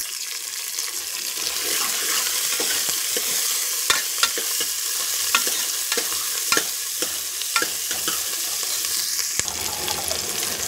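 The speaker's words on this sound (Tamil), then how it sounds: "கருவேப்பிலை பொரிஞ்சதும் சின்ன வெங்காயம் சேர்த்துக்கலாம்" Small shallots and curry leaves fry in a pan, giving a steady close hiss with scattered crackles and spoon-stirring clicks throughout, and no talk.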